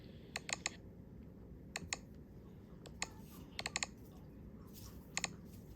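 Computer keyboard arrow keys pressed in short irregular clicks, single taps and quick clusters of two or three, close and crisp over a faint steady room hum, no talking.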